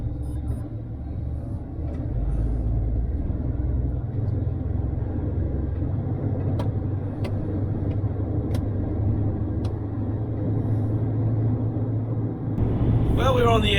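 A vehicle cruising on the M6 motorway gives a steady low road rumble and engine drone that runs nearly unbroken throughout, with a few faint clicks over the top and a brief surge of brighter noise near the end.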